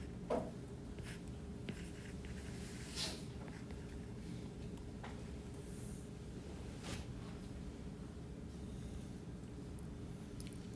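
Marker or chalk scratching out math notation on a board during a calculus lecture, a steady run of soft strokes and taps close by with no talking.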